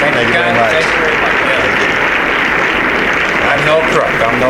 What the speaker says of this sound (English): Now this is our applause here now.